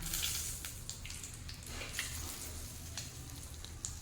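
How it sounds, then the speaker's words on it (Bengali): Pomfret fish frying in hot oil in a pan, a steady close sizzle dotted with small crackles and pops, with no talking. "বাকি তেলের মধ্যে যে পমফ্রেটটা আছে এটাও ভেজে নেব"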